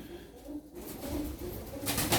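Tumbler pigeons, including a speckled blue bird, give soft, low cooing. The coos are faint and muffled against a quiet background hiss.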